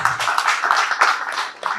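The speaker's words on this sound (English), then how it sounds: "Please clap for her." An audience at a cross-border trade forum claps together: dense, uneven bursts of many hands, close and fairly loud, continuing without a break.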